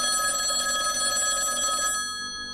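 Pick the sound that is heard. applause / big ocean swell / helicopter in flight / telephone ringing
telephone ringing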